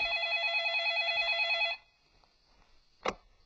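A telephone rings in a warbling electronic burst that stops abruptly, followed by quiet and one short knock or click.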